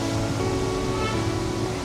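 Small waterfalls tumble beside a remote mountain road on the way to Adi Kailash, giving a steady, dense rush of falling water that holds even and unbroken throughout, with no voices.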